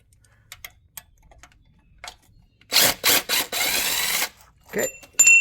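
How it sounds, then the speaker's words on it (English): A ratchet breaks a bolt free on a 4L60E transmission, a few faint ticks followed by a burst of loud, rapid clicking close by, then a short scrape and a clunk. "Break it free with the ratchet."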